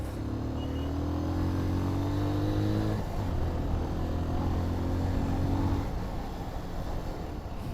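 A motorbike carries riders along a road on a night ride, its engine giving a steady, close droning hum that shifts pitch about midway and then thins out toward the end, with no talking.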